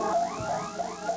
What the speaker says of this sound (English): Workers inside the building trigger an alarm.